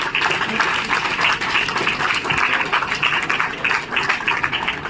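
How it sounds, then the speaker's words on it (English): Audience applause at an arts and film ceremony in India: dense, continuous clapping from a hall full of people, steady and fairly loud, filling the whole stretch without a break. "Can we have a round of applause, please?"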